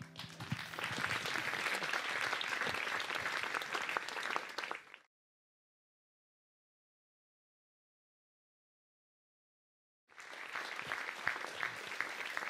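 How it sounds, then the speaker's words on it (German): Audience applause at a Jewish cultural summer concert marking the Jewish Museum Berlin's 20th anniversary, dense clapping for about five seconds, then a gap of silence before the applause resumes. "So viel wie möglich und dafür bitte erstmal einen Applaus."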